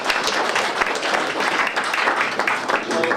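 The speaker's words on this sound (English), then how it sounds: "I love it when people clap at the beginning" Audience applause at the start of a speech by Roger Helmer, UKIP MEP: a sustained, even patter of many hands clapping from a sizeable crowd, continuous throughout.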